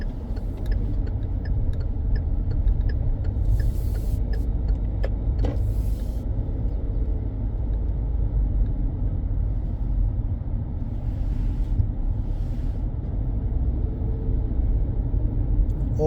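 A car cruises along a new highway in the parish of St. Andrew, Barbados, a steady low interior road rumble with faint ticks and small clicks, continuous and even, no talking.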